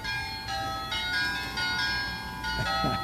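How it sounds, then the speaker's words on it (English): A sleigh-bell chime used as a house doorbell rings out in repeated jingling bursts, fairly steady and moderately loud with no talking. "So you hear sleigh bells whenever somebody comes by."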